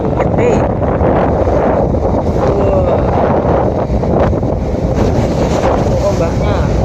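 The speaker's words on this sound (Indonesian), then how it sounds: "Saat ini kita sedang menyeberang Selat Bali. Ombaknya lumayan gede." On a ferry crossing the Bali Strait in big seas, heavy wind buffets the microphone in a constant loud rush, while water surging against the hull churns underneath.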